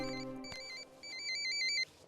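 A telephone rings close by with a repeating electronic melody of bright, steady tones and short pauses between phrases, heard alone against a quiet room.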